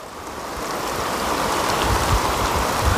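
Heavy rain pours down steadily outdoors, splashing onto a meal of rice and vegetables below, a dense, constant rushing hiss that is close and fairly loud with no voices.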